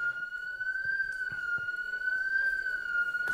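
A steady, loud alarm siren drones without pause during a public speaking event about trees. Its single high tone wavers only slightly and holds for the whole stretch, with no voices over it.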